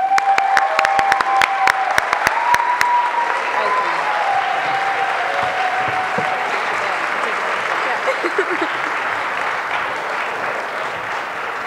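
Sustained audience applause at the 2011 Queer Youth Leadership Awards ceremony honoring a nominee, with a few sharp whistles and claps standing out early before the clapping settles into a steady, full roar and holds throughout.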